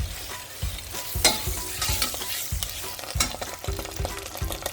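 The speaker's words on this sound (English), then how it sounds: "We'll put the tomato paste, and stir that." Tomato paste is stirred into melted butter in a pan for a sauce, with a gentle sizzle beneath rhythmic scraping and stirring strokes of a utensil.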